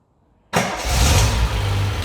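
A retro car that has just been serviced fires up after a brief crank and settles straight into a loud, steady idle that stays close.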